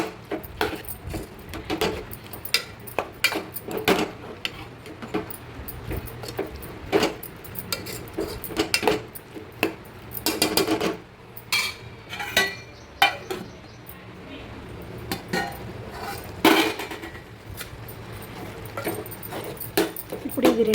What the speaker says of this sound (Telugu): వేసి ఒకసారి అంతా బాగా కలిపి మళ్ళీ మూత పెట్టి మళ్ళీ కాసేపు ఉడకనివ్వాలి